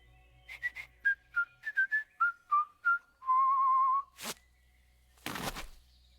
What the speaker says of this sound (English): Whistle 2 times, leave delivery on doormat, and exit the area.